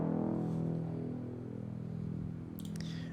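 The mid layer of an Afro house synth bass, from Legends with EQ and saturation, plays alone as a continuous warm low-mid drone, fairly quiet, with a brief bright click near the end.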